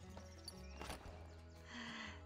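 Horse sounds from the Ranch of Rivershine video game, with a brief burst of hoof clip-clop and a snort or whinny over a steady soft ambient game background.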